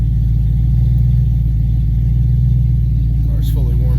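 A Ford LTD Crown Victoria coupe with a swapped-in 351W EFI V8 idles close by in a steady, even low rumble, with a brief higher sound near the end.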